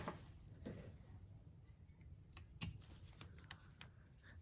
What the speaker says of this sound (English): I am gonna tape off the edges because I really like that white border on the edge